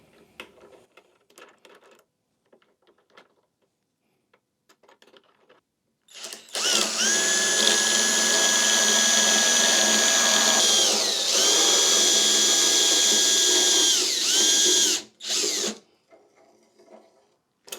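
A power drill fitted with a Banggood dowel cutter cuts a 12 mm wooden dowel, a loud, steady high-pitched whine lasting about nine seconds with a brief dip partway, then cutting off abruptly, with quiet handling noises before and after.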